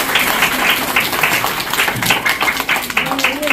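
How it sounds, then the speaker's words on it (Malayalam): Audience clapping at a school annual day magic show, a short burst of applause mixed with crowd voices and a speaking voice on top. "ഒന്ന് കൈയടിച്ചു."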